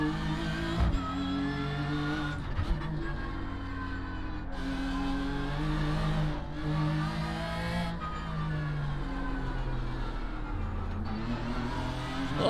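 A BMW M4 GT3 race car engine in the iRacing sim drones steadily at high revs, with repeated upshifts and downshifts and rises and dips in pitch through corners, loud and continuous without speech.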